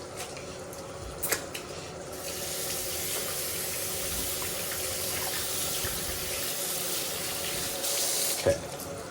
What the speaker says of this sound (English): Just gonna rinse my fingers because they feel nasty. Give it a wash.